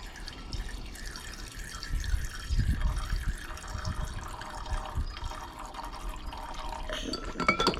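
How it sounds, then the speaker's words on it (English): Distilled water and nitric acid trickle and drip into a glass container nearby, a steady gentle pouring with small splashes and faint clinks. "so I'll put some distilled water in there"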